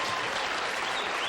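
Studio audience applauding for Bob Hope on a 1980 Tonight Show broadcast, a steady dense wash of clapping throughout, fairly loud and even with no voices.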